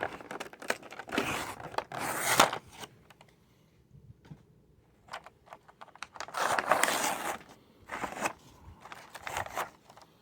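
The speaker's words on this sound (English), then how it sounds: "So I'll go ahead and open the card back." Cardboard-and-plastic card back packaging of a Masters of the Universe Origins Skeletor figure being opened, close bursts of crinkling, tearing and rustling separated by quiet pauses, no speech.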